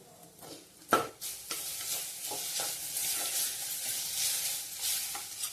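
Ginger garlic paste sizzles in a hot frying pan, a steady crackling hiss with a few stirring scrapes and clinks, close up and with no talking.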